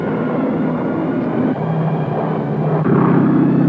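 A squadron of low-flying attack bombers over the Nadzab Valley in wartime New Guinea, their engines a steady, loud, unbroken drone that swells slightly near the end.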